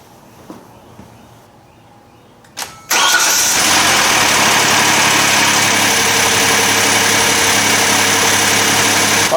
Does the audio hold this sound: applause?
no